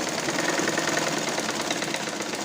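A sewing machine runs in a fast, continuous rattling burst, stitching the end of a bra's waistband, close and loud throughout.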